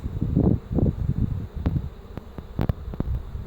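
Honeybees hum around the hives at an apiary in Baradulikha district, East Kazakhstan, a low wavering buzz that swells and fades in soft bursts, with a few light clicks and knocks nearby.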